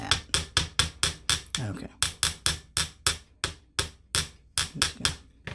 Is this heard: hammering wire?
yes